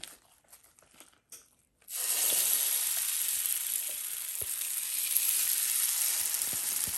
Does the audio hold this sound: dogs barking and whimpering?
no